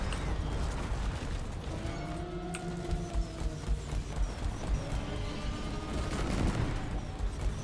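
Dense, continuous gunfire and clattering from the video game Deep Rock Galactic keep going steadily over a roar of game effects and low rumble.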